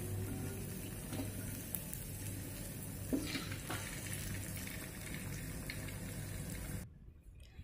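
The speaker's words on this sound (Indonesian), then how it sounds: "Setelah garing nanti kita angkat dan kita goreng semuanya." Tofu patties (perkedel tahu) frying in hot oil give a steady, close sizzle with crackles and small pops, continuing evenly for nearly seven seconds before cutting off abruptly near the end.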